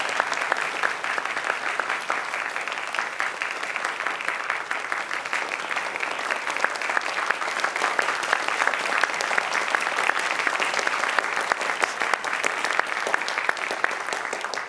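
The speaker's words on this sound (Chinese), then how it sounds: "请现场贵宾以热烈的掌声" Steady, dense applause from a studio audience greeting presidential candidates as they shake hands before a televised 2024 election debate, continuous and even at moderate level throughout with no break.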